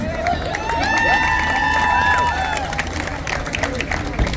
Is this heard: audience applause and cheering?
yes